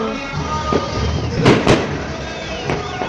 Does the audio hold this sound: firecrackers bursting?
yes